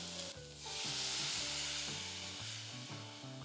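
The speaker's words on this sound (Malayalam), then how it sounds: "ഇനി ഇതിനകത്തേക്ക് വെള്ളം ചേർക്കാം." Water goes into a hot pan of potato curry and sizzles loudly, a bright hiss over scraping stirring strokes, heard close with no talk.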